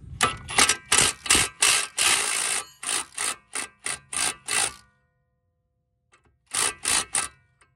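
A tool works a nut on the driver-side control arm of a 2004 Chevy Malibu, giving a rapid run of sharp mechanical bursts, then a pause and three more bursts, close and fairly loud.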